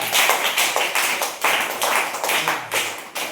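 Children applaud together in a classroom, a close, lively burst of rhythmic clapping that pulses in quick waves for a few seconds.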